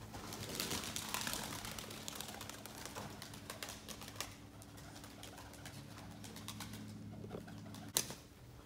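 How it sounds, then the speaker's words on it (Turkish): Breeding pigeons in a loft, with soft low cooing running steadily through the background, occasional wing flaps and a sharp click near the end. "Şöyle de güvercinleri göstereyim."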